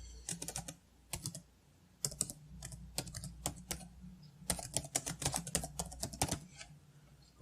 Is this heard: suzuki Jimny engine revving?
no